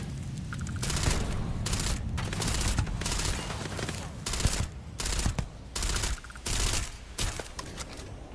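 Sustained rapid automatic fire from a turret in the video game Starfield, loud and continuous at first, then breaking into short bursts with brief gaps toward the end.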